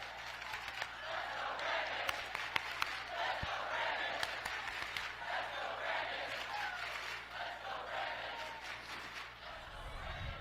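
A large rally crowd roars and chants continuously, with scattered uneven clapping cutting through the dense, steady din throughout.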